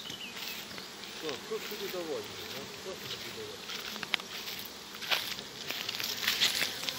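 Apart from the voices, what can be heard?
Buckfast honeybee drones flying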